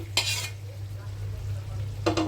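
Duck meat curry stirred in a pan with spices and fried garlic and onion: two short bursts of utensil scraping and stirring, at the start and near the end, over a steady low hum and faint background sizzle.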